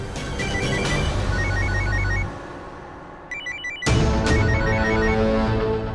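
An electronic telephone ringtone plays a repeating melodic pattern, pauses briefly, then starts again, fairly loud and close.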